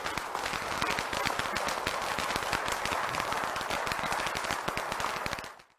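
Dense, sustained applause from a large crowd at a wedding blessing ceremony in Seoul, steady and loud for about five seconds before fading out abruptly at the end.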